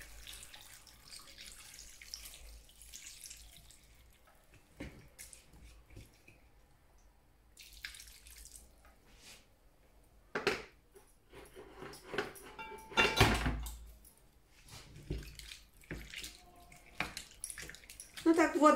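Cold water runs from a tap into a pot holding chicken, potatoes and mushrooms, a gurgling splash that comes in uneven bursts and grows louder toward the end, with a voice speaking between pours.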